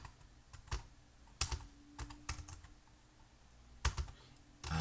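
Clicks of a computer keyboard being typed on come in short, irregular bursts of quiet, close keystrokes with pauses between, and no talking.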